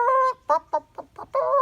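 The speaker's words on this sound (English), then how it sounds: "when the mother hen would lay an egg, she sounded like this." A hen clucks in a rapid, uneven series of sharp calls, ending on a longer drawn-out cackle, close and clear.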